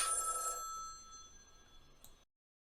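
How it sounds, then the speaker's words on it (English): A telephone bell rings once during an acting class exercise, a bright metallic ring that decays and fades over about two seconds before cutting to silence. "you get the phone ring"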